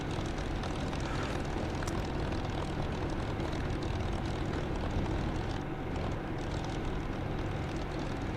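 A steady, loud drone from a propeller aircraft engine in a flight simulator game, a continuous hum held at one level with no talk over it.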